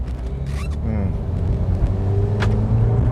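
A 2015 Ford EcoSport 1.5 Titanium SUV drives uphill, its engine a steady low rumble with road noise inside the cabin, continuous and moderately loud.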